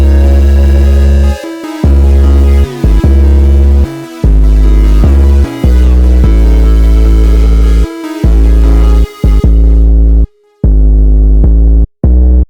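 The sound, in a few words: 808 bass in a jerk-style beat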